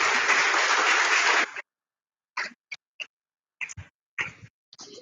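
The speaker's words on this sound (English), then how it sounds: "Let's give them a huge round of applause." An audience at a university finance event gives the speakers a round of applause, a dense burst of clapping for about a second and a half that cuts off abruptly, followed by scattered faint knocks and rustles.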